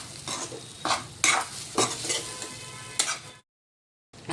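Jhunka, a gram flour dish, cooking in a pan, with a low sizzle and several rhythmic scraping stirs of a spatula, followed by a brief silence.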